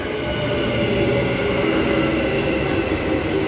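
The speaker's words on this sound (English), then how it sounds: "Butler service arriving onto platform number 2" An electric Butler service train pulls into platform 2 at East Perth station, a steady loud rolling rumble with rail noise filling the whole stretch, echoing in an enclosed station.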